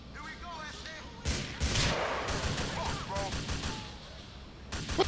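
Gunfire and explosive blasts in Grand Theft Auto IV: The Ballad of Gay Tony during a gang drug war, a series of sharp booming reports over a continuous rumbling game background, loud and close.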